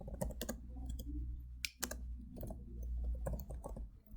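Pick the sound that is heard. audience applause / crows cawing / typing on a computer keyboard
typing on a computer keyboard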